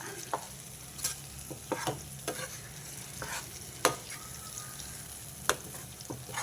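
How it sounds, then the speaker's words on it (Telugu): Gongura chutney sizzling in hot oil tempering as it is mixed, soft steady frying with repeated clicks and scrapes of a spoon against the pan, close and quiet without speech. "గోంగూర పచ్చడి అంతా తాలింపులో మిక్స్ అయిపోయింది"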